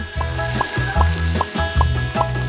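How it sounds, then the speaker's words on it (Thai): Steady close sizzling of freshly cut tortilla pieces frying in hot oil until golden, with a few soft rhythmic stirring clicks and no voices. "อุ่นน้ำมันให้ร้อนและทอดแผ่นตอตยาที่เพิ่งหั่นลงไปจนเป็นสีเหลืองทอง"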